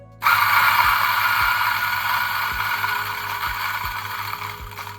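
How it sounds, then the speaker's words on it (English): DF64 Gen 2 espresso grinder grinding 5 grams of coffee: a loud, harsh, continuous mechanical whir with a rattling edge, starting suddenly and running steadily for about five seconds up close. "but oh boy, the DF64 is a lot louder."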